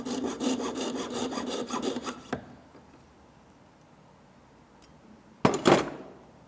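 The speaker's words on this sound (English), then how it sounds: "can use your saw frame, size 4/0 saw blade, grip it on your bench pin, and saw through the seam" A jeweler's saw frame fitted with a 4/0 blade cuts through the seam of a metal ring blank held on a bench pin, giving fast, even rasping strokes for about two seconds, then quiet, followed by a short scraping burst.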